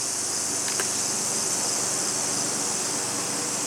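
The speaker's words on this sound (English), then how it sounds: "I'm not gonna lie, the cicadas are a little annoying." Cicadas buzzing in a late-summer garden, a dense continuous high shrill drone that holds steady and fairly loud throughout, with no voices.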